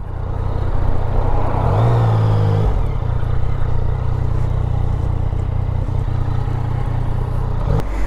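A motorcycle idles loudly up close while being parked lengthwise in a sunny spot in England, its engine rumbling steadily with a brief rev near the start and light clatter toward the end.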